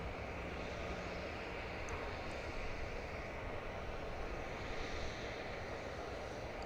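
Airplane taking off at DFW Airport, a steady, broadband engine roar that holds at a constant, fairly loud level throughout, with no talking.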